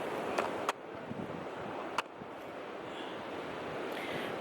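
Steady broadband rush of ocean surf and wind at a beach in Rarotonga, faint and continuous, with a few brief handling knocks near the microphone and no speech.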